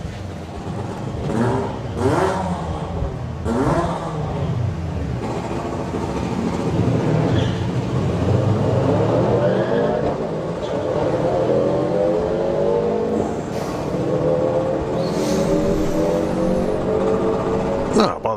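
Nissan GTR cars rev and accelerate at a street car drag racing event, engine roar rising and building steadily over background crowd noise, with a commentator talking throughout.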